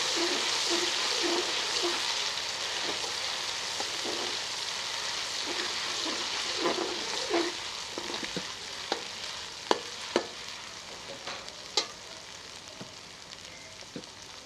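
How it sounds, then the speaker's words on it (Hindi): Gobhi chicken with ginger-garlic paste sizzling and frying in a pan, a steady bright hiss throughout with repeated scraping stirs and sharp spoon clicks against the pan in the second half. "थोड़ा सा इसे भून लेंगे।"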